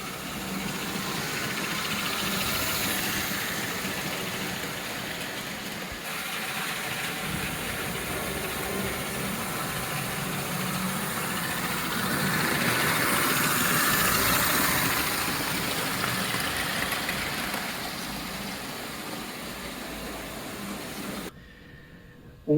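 A #322 toy steam engine train chugs steadily while pulling a heavy load, a dense continuous mechanical rumble and whir that swells slightly midway, then cuts off abruptly near the end.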